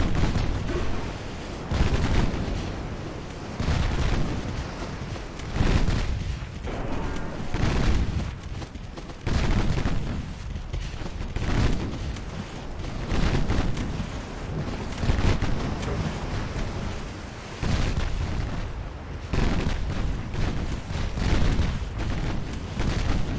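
Warship guns firing in Ultimate Admiral Dreadnoughts, repeated heavy booming salvos and rumbling volleys throughout, loud and dense with brief lulls between bursts.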